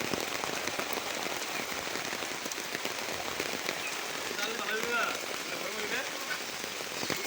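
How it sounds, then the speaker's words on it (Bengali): Light rain falls steadily on surfaces in a village, a dense, even patter of drops that continues alone without any break. "কি পরিমাণে বৃষ্টি নামছে দেখছেন"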